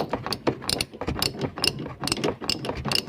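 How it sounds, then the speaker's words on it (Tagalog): A 14mm socket wrench ratchets on a nut while a rear shock is being replaced on a Toyota Vios, making rapid, close clicking bursts in quick repeated strokes. "matatanggal na natin yan gamit ang 14mm na socket wrench"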